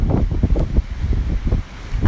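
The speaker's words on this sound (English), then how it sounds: "really strong storm continues to hit and affect the sea pens here." Strong storm wind batters the dolphin sea pens in Taiji, a loud, continuous roar of gusts buffeting the microphone, rising and falling in surges throughout.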